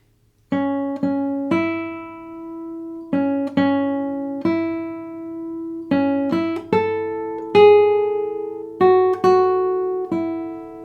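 Brahms' Lullaby melody picked as single notes on a guitar, each plucked tone ringing clearly and decaying before the next, in a slow, gentle rhythm with no accompaniment.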